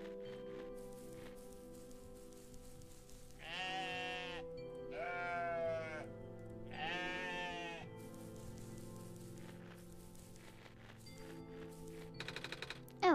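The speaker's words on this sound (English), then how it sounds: "Let's go and herd them sheep." Sheep bleat in the video game OneShot, several drawn-out wavering cries in succession over a quiet game soundtrack, clear and close, with a sharp clicking burst at the end.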